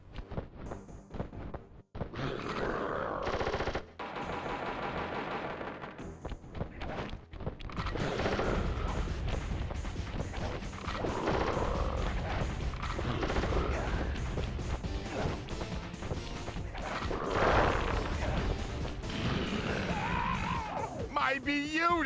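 Gunfire bursts and crashes from the Sly Cooper video game mix with a character's shouted voice and game music, loud and continuous with sharp repeated impacts.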